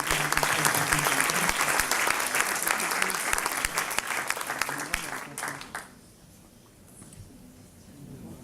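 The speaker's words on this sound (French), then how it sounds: "encore bravo, je vous demande de les applaudir." Audience applause at an award ceremony, dense sustained clapping for about six seconds that breaks off abruptly into quiet room tone with faint murmurs.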